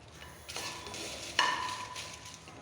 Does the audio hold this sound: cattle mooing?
no